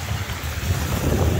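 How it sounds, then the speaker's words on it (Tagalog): Strong gusting wind buffets the microphone outdoors on a trail beside water at Algonquin Park, Ontario, a loud, rough rumble throughout the brief moment with no talk. "Masyadong malakas yung hangin."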